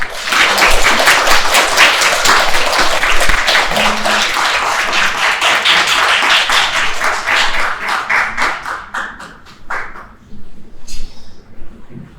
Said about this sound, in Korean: 목사님께 큰 박수 부탁드립니다.